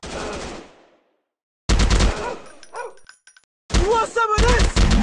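Bursts of automatic gunfire from a video game shooter, loud and close, in two separate volleys with a quiet gap between them and some in-game effects mixed in.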